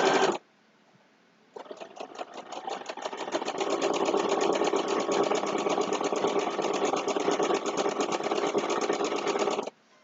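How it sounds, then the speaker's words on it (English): Sewing machine stitching potholder fabric, a fast steady mechanical whir of the needle running for several seconds after a brief burst and pause, loud and close with no talk. "So just relax and just stitch along."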